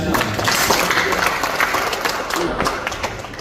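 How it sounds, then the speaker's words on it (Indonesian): Audience applause at the opening of a Scout movement working meeting in North Jakarta, a dense, loud burst of clapping and crowd noise that carries on throughout with a voice faintly mixed in. "Beri aplaus lagi buat Kak Budi Siti."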